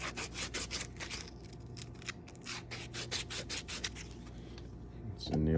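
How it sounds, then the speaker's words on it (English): Sandpaper rubs rhythmically around the inside edge of a 90% silver 2000 Maryland proof quarter being made into a coin ring, steady close scratchy strokes that stop just before a louder clatter at the end. "Sand that inside edge."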